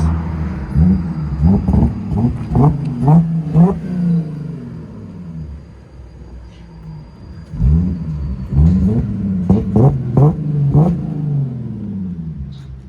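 A 2016 Audi A7 with a 3.0L supercharged V6, Borla ProXS exhaust and muffler delete revs up close and loud. Two clusters of sharp throttle blips rise and fall, separated by a brief idle lull.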